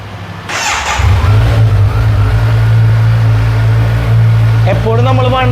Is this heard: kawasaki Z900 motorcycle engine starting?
yes